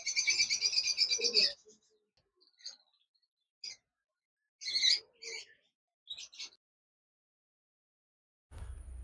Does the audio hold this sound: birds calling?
yes